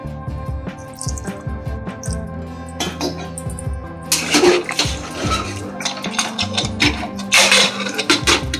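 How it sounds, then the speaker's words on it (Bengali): Warmed water pours and splashes into a pressure cooker holding mutton curry, with sloshing bursts and a few clinks of the pot. "এবার আমি জল দিয়ে দেবো, জলটা একটু গরম করে নিয়েছি।"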